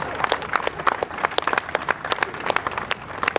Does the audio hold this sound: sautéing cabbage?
no